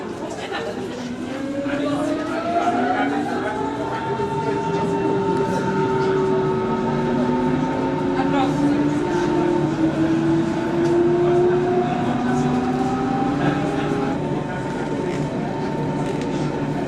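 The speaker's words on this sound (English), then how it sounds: "And soon we caught an S-Bahn train." A Berlin S-Bahn train rolls along toward Alexanderplatz with a steady, loud interior rumble and rising and falling electric motor whines, and faint chatter underneath.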